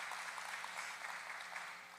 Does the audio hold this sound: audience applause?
yes